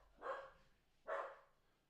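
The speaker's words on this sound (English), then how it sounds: "my dog's going crazy" A dog barks twice, about a second apart, each a loud, close bark standing out against a quiet room with no talking.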